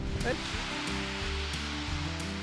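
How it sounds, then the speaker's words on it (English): Big ocean waves break along Oahu's North Shore on a busy Sunday, giving a steady, dense wash of surf roar heard from a distance with no clear pauses. "So the waves are really big"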